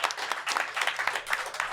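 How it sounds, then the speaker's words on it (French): A French studio audience applauds steadily throughout, a dense wash of many hands clapping at close range with no voices standing out. "Applaudissements."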